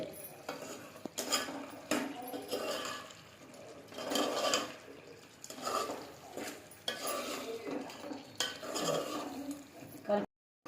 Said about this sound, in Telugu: కారం వేసుకొని బాగా కలుపుకోవాలండి